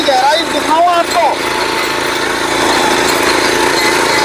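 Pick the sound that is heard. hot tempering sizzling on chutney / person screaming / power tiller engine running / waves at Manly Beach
power tiller engine running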